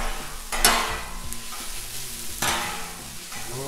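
Ham, vegetables and hash browns fry on a Blackstone griddle while a spatula stirs and scrapes them, with two distinct scraping strokes over a continuous close sizzle.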